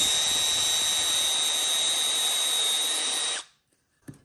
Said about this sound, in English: We're just gonna drill 2 holes.